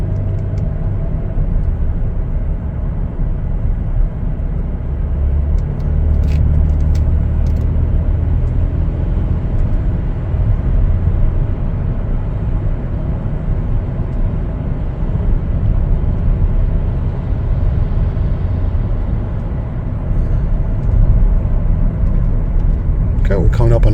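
A 2022 Chevrolet Traverse LS drives and accelerates, a steady low engine and road rumble heard from inside the cabin under continuous talk.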